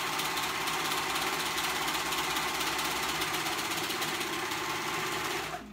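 Sewing machine stitching a sleeve onto a child's pajama shirt, running in one steady, continuous loud whir for several seconds before stopping at the end.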